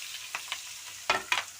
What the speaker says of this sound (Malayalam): നമ്മുടെ കടുക് നന്നായിട്ട് പൊട്ടുന്ന സൗണ്ട് കേട്ടോ ഗൈസ്